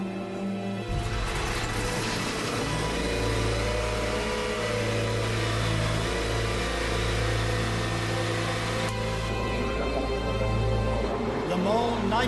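Porsche 917 race car at Le Mans in 1970 accelerating hard, a loud sustained engine roar running throughout with a shift in tone near the end, with voices over it.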